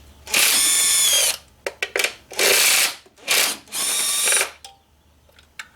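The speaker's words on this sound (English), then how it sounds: "This impact sounds pretty gnarly" A cordless impact nut runner whirs and hammers on BMW N54 valve cover bolts in four loud bursts, with short clicks and trigger taps between them, close by.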